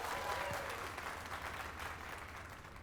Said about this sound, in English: Let us give a round of applause for young Fulvio, who breathed life into this block of stone.